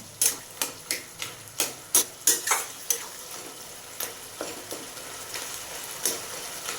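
Taro leaves cooking in a pan as a spatula stirs them: sharp, rhythmic scrapes and clacks about twice a second over a soft sizzle, close and loud at first, then gradually lighter and sparser.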